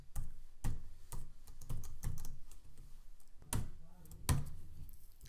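Code is typed on a computer keyboard in quick, irregular bursts of close, crisp key clicks with short pauses, faint and alone.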